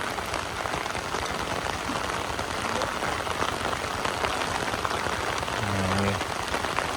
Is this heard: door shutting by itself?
no